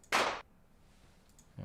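A single snare drum hit layered with a big white-noise burst, a sharp bright crack that decays over a fraction of a second, followed by the start of another hit.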